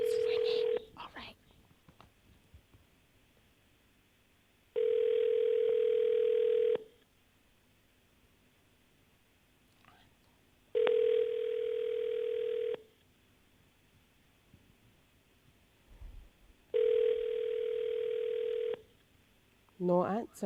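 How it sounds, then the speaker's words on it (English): Telephone ringback tone during a call placed on a Barbados morning radio show, three long steady rings with silent gaps between them, clear and unanswered. "It's ringing."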